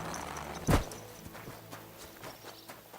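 Horse hooves clip-clopping in the medieval game Kingdom Come: Deliverance II, a single loud thud followed by fainter, irregular hoof falls at moderate distance over a low ambient background.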